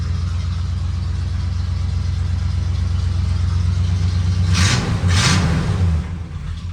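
An old project truck with a short glass pack exhaust run to the tailpipe rumbles steadily at idle up close, then gives two brief revs near the end before settling back.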